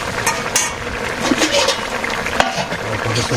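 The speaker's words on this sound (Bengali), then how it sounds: "জিরা বাটা দিয়ে দিলাম মাছ দিয়ে দেবো" Fish cooks with cumin paste in a pan, with a close sizzle broken by the scrape and clatter of stirring and a sharp knock of utensil against metal.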